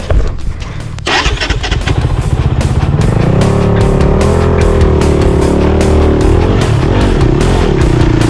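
A motorcycle engine at a scrambler motorcycle rally revs hard and steadily, loud and close, its pitch rising and wavering over several seconds after a brief sputtering start.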